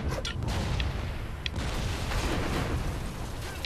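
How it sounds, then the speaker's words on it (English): Mortar fire in the video game Toy Soldiers War Chest: a loud, dense rumble of booming blasts and bursts, continuous and close, with a few sharper pops near the start. "Drop the mortars"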